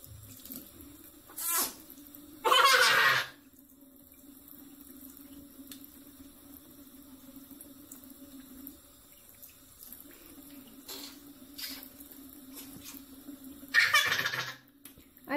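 Water runs steadily from a household tap as a small child drinks from it, a constant flow broken by a few louder splashing bursts near the start and end.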